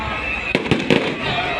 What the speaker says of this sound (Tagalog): Dalawa yung fireworks natin.